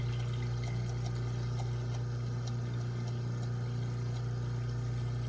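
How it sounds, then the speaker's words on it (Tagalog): An air cooler's water pump runs steadily, circulating water with a constant low hum and a faint trickling wash over a continuous electrical drone, with no talking. "So, nagsisirculate yung tubig niya."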